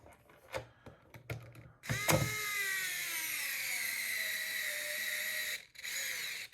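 A power driver runs M3 x 20 mm bolts into the frame of a 1/10 scale RC utility light trailer. A few light clicks come first, then one close, sustained whir drops in pitch as the bolt bottoms out, followed by a short second burst.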